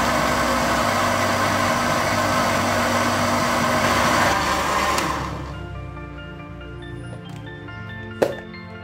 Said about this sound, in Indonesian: Kemudian blender kurang lebih 2 menit.